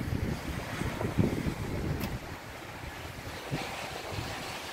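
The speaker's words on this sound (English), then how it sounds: "The rain's letting up, but it's still very windy." Strong wind buffets the microphone in rough, uneven gusts as rain lets up, loudest early on, with a brief sharp knock of something slamming partway through.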